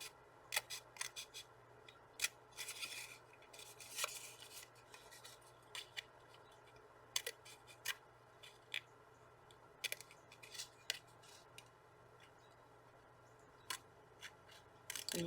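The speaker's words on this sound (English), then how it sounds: "I'm going to get a hole so that I can get my scissors in there to cut." Scissors cut through paper card around a flower shape for a handmade greeting card, giving quiet, sharp snips and crisp clicks in irregular bursts with soft rustling between them, close by and with no talking.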